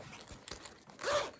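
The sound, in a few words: unzipping a zipper on a yarn storage bag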